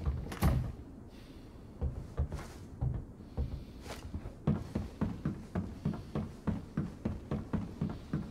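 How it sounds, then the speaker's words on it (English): A door swinging shut inside a house in the video game Arena Breakout, with a few loud thumps early on, then a steady run of regular, evenly spaced clicks or footfalls, fairly close. "Gonna close the door."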